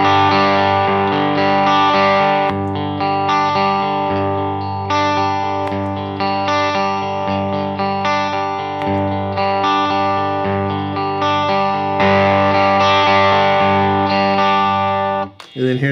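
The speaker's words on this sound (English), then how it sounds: "let me get a nice clean Strat sound and then we'll go through all three of them" An electric guitar, a Fender Stratocaster, is played through a fuzz pedal, giving thick sustained distorted chords with a buzzing, harmonic-rich tone, loud and close, continuing without pause for about fifteen seconds.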